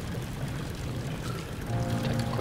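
Water pours steadily like a running shower inside the horror video game Amnesia: The Dark Descent, a soft continuous hiss and splatter at moderate distance that swells slightly toward the end.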